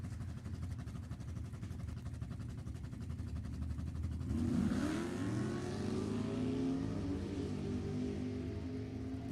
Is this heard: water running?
no